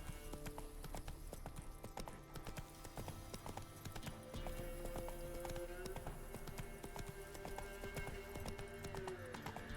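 Horse hooves clip-clop steadily at a gallop in The Witcher 3: Wild Hunt, a continuous rhythmic pounding with an occasional whinny, set against game music and a voice talking over it.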